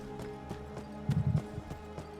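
A horse in the video game Skyrim clip-clops at a steady walking rhythm, with regular hoof thuds over a low ambient drone and a brief snort or whinny partway through.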